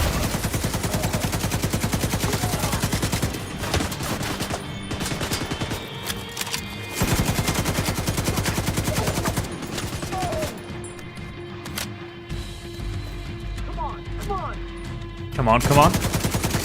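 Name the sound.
gunfire from The Division 2 video game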